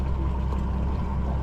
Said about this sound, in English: I'll go shut the engine off now